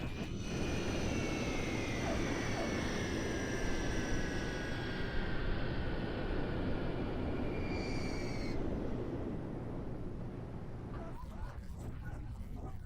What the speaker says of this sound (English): Soon after, the plane lands safely in Mendoza.